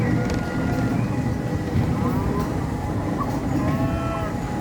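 A big bull lows several times at a farm, drawn-out moos over a steady engine rumble heard from a tractor ride at Sundown Adventureland.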